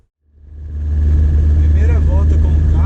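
A VW Saveiro G3 pickup with a 2.0 turbo engine and HX40 turbo fires up out of silence and swells into a loud, sustained mid-pitched engine drone with a deep low rumble.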